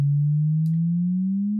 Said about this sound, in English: the only MIDI layer that I have in this track is a little riser that I made from the Wavetable plugin